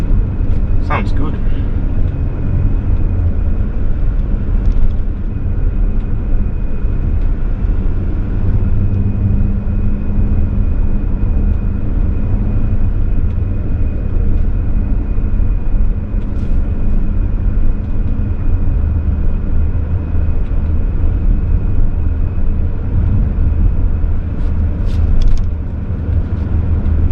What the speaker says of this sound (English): Such a nice car to drive. Very quiet on the road, handles like a sedan